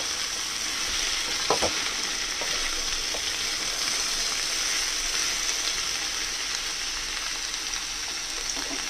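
Radish and radish greens fry in a hot pan for a winter vegetable dish, a steady close sizzle with occasional stirring scrapes and clinks, no voices.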